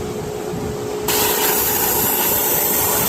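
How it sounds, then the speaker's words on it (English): A Badger 105 Patriot airbrush sprays paint, starting with a faint hiss before a sudden onset of a loud, steady airy spray that continues evenly to the end. "You can see spraying for a while now, getting a bit of tip dry."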